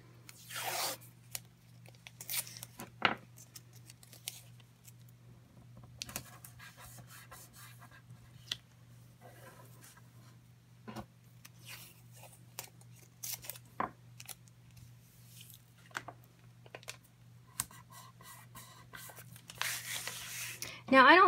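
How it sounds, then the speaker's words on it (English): Adhesive tape being pulled from the roll, torn and pressed down during setup of a foil quill on a Silhouette Cameo cutter, heard as scattered short rips and rustles over a low steady hum, with a voice talking. "So now you're just going to tape it."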